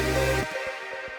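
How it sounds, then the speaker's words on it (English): A future bass synth patch built on a sawtooth wave in Phase Plant, run through a low-pass filter with distortion, sweeps upward in a bright, buzzy burst. It cuts off after a fraction of a second, leaving soft low thumps. "this little like sawtooth wave sweep up thing"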